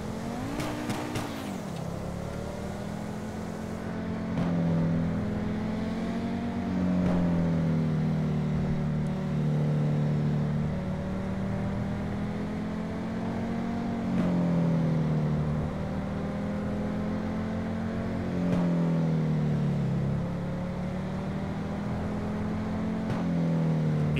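Modified Honda Civic VTi engine in a driving game played on a Logitech G923 wheel and shifter, a steady highway drone that rises in pitch through each gear and dips at every shift, repeating several times.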